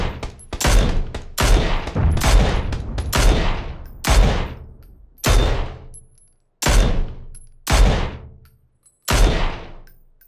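Heavy gunfire in the PUBG video game, a series of loud, close shots in bursts and single blasts, each followed by a ringing echo that decays before the next round, with brief silent gaps between.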